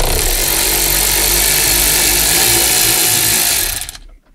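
A power tool with a 10 mm socket spins off the head unit bolts on a Toyota Tacoma, a loud, close, steady whir that runs continuously for about four seconds before cutting off abruptly.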